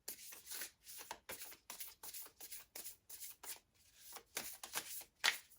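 Tarot cards riffle and slap in a quick series of separate shuffling bursts, close and fairly quiet, and a sharper snap of a card near the end, with no talking.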